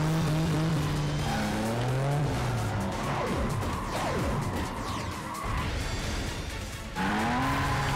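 Racing cars in the video game Cruis'n Blast roar and whine through gear shifts, with engine pitches sweeping up and down and occasional tire squeals, loud and continuous.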